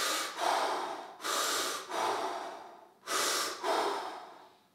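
Slow, deep breaths drawn and pushed through the nose during a squatting stretch, four or five long airy inhales and exhales in a steady rhythm, close and unaccompanied by talk.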